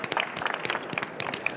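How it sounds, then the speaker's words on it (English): A conference audience at a thoracic surgery resident quiz final claps for the staff, a short, fairly faint burst of scattered applause with uneven individual claps. "round of applause, round of applause"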